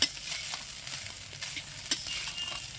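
Leftover cooked rice is stirred in a pan over low heat, a quiet soft sizzle under gentle scraping stirs with a couple of louder knocks, close but faint, with no talking.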